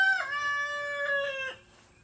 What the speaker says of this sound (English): They are beautiful chickens.